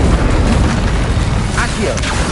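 A Confringo blasting spell goes off in Hogwarts Legacy as a deep rumbling boom amid dense game noise, with a couple of brief sharper bursts toward the end.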